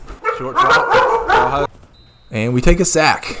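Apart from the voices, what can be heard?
dogs barking in the background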